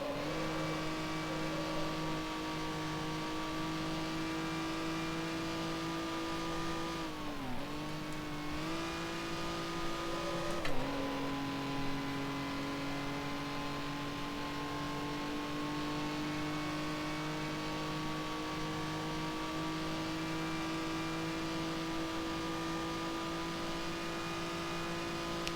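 A 1955 Formula 1 race car engine in the Grand Prix Legends racing game at Spa drones steadily and close, with a brief dip and rise in pitch as it shifts gears, then settles back to a sustained high-revving note with no talk.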